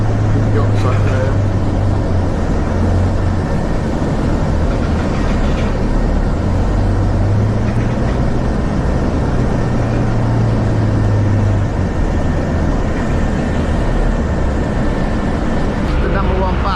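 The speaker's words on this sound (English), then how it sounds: "The number 1 bus that brings you to the terminal." Interior rumble of the number 1 city bus in Palma de Mallorca running toward the cruise terminal, a continuous loud engine and road drone with low gear-whine tones shifting throughout, voices talking over it.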